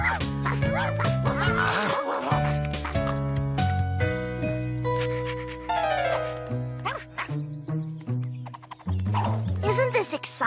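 A cartoon dog's woofing comes through in loud, repeated bursts. It sits over a busy bed of music, with yips and quack-like tones mixed in.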